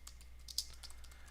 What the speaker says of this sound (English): I'll type in my name and 123 Main Street.